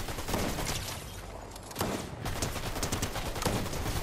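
Rapid gunfire in the video game Fortnite, a dense, continuous burst of shots with a brief break partway through, sitting fairly quiet in the game mix.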